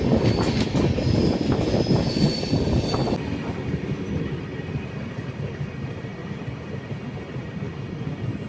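Tambaram-Jodhpur Express running on rails past Wardha Junction gives a steady, loud rolling rumble with a hiss of wheel noise. It is heaviest for the first three seconds, then settles into a slightly softer continuous drone.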